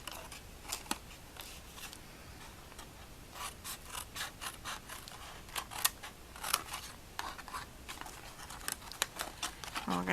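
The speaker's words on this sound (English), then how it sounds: "We're also going to cut away these two end flaps." Metal snips cutting away the end flaps of a cardboard box, giving sharp, repeated crisp snips and crunches in an irregular rhythm, close and fairly quiet, with light handling rustle between cuts.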